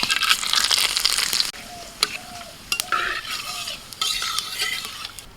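Bay leaves, whole cumin and whole garam masala crackle and hiss in hot oil in a large wok, while a spoon scrapes and clinks against the metal in uneven bursts, close and fairly loud.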